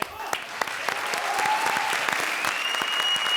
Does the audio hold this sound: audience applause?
yes